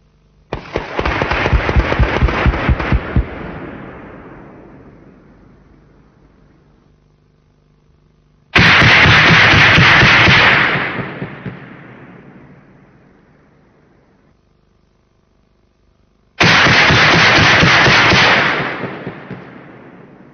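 Three 40mm L70 Bofors rounds, fired from a CV90 in a 1992 test with time-programmed fuzes, burst over infantry dummies in the target area. Each loud, sharp blast is followed by a long rolling roar that fades, spaced several seconds apart.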